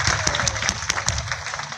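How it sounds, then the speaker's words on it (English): Audience clapping at a tiger show after a leaping cat named Kismet performs, a brief, loud, close patter of many hands with faint crowd noise underneath. "How about a round of applause for Kismet?"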